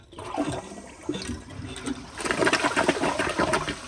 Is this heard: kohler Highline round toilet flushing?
yes